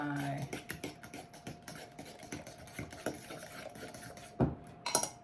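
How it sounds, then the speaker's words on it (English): A utensil stirs egg into mashed bananas in a mixing bowl for banana nut chocolate chip muffin batter, giving quiet, close, irregular clinks and taps against the bowl with a louder knock near the end. "Put my egg in my bananas. Mix that"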